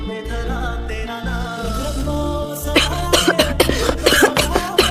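Coughing in a restaurant scene from a Korean drama set to a Hindi song mix, a few sharp bursts near the end heard over loud steady music.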